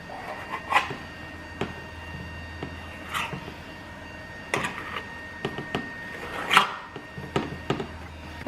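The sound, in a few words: sharp knife cutting homemade sheet pan pizza dough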